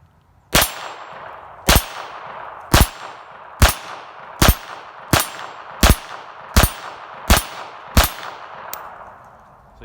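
A Smith & Wesson 422 .22 pistol fired at close steel from about 8 to 10 yards, ten sharp shots at a steady pace of roughly one per second, each a crisp crack with a ringing metallic ping.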